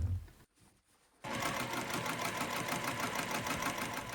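A sewing machine stitches a double-fold hem on a pair of pants at a stitch length of 3.8, starting after a brief pause and then running in a fast, even mechanical whir, close and steady with no voices.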